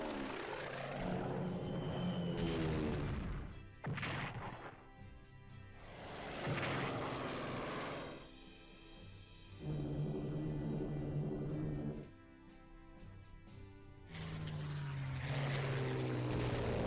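Droning aircraft engines in the strategy game Strategic Command: World at War swell and fade in several long passes, a steady propeller-like hum in the background.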